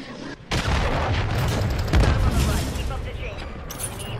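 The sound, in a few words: cruise missile strike explosions in video game Modern Warfare 3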